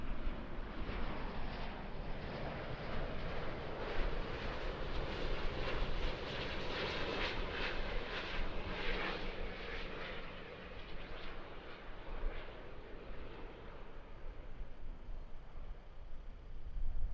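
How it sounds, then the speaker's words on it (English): A Cathay Pacific Airbus A350 lands at Auckland with a loud, continuous broadband jet roar that holds steady and then eases slightly toward the end. "a Cathay Pacific Airbus A350 came in"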